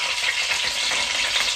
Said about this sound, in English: After my fish was done, I then started to fry my chips